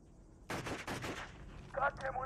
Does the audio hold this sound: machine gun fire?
yes